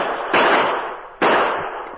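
Two sharp gunshots in a Lone Ranger old-time radio drama, each a loud crack about a second apart, with nothing else heard around them.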